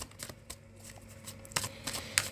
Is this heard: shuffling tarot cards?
yes